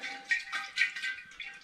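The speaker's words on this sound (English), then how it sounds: "Give it a really good swill around" Spring water sloshed and swilled around inside a glass demijohn during all-grain strong ale brewing, giving repeated watery surges in a close, moderately loud rhythm with no talk.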